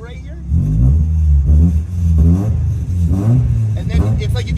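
A turbocharged VTEC car engine revs up and eases off several times in a row, its pitch sweeping rise and fall, loud and close inside the car.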